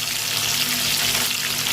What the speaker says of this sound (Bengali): আমি আলুগুলোকে ভেজে নেব।